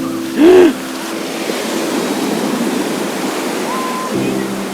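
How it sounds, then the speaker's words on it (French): Big sea waves crash and wash on a beach in a steady roar of surf, with a brief voice near the start and wind buffeting the microphone. "Mais il y a des sacrées vagues, hein."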